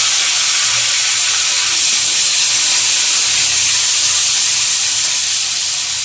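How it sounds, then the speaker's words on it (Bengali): Potatoes fry in leftover prawn oil with a loud, unbroken hissing sizzle, close and steady throughout, with no voices. "মাছের অনেকগুলো তেল থেকে গেছে, এবার আমি এতে আলুগুলো ভেজে নেব।"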